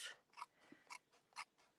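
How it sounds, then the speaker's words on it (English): Scissors snip through card and paper while a stocking card is made, with glue on the blades: several short, crisp cuts in a quick rhythm, quiet and close, with no voices. "And we'll just cut this off."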